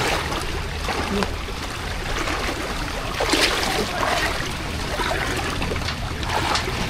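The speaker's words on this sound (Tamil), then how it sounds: "இந்த தண்ணி போகிறது பக்கத்தில் இருக்கு" Floodwater from a cyclone flows steadily past a house in eastern Sri Lanka, a continuous broadband rush and trickle that holds at an even level throughout, with no voices over it.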